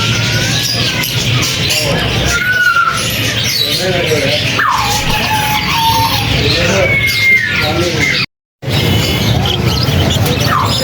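Dense chatter of parrots, chickens and other caged birds at a busy bird market, squawks and calls overlapping continuously with people talking nearby, broken by a brief dropout near the end.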